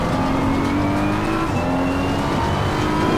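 A Ferrari race car in Assetto Corsa Competizione holds a loud, steady engine drone with slowly rising pitch, continuous and close, without any voices.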